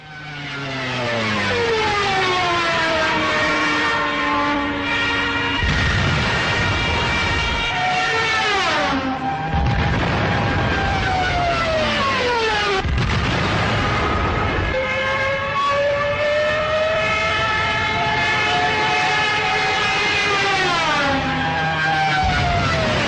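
A loud, wailing dive bomber siren rises and falls in pitch repeatedly, a howling scream of diving warplanes sustained throughout.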